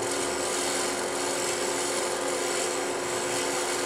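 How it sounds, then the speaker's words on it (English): A woodturning tool shear-scrapes a spinning piece of wood on a lathe, giving a steady, close, continuous hiss and rasp with no break and no voices. "I'm doing a shear scrape."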